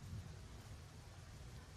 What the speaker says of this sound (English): As the rain does start to bucket down.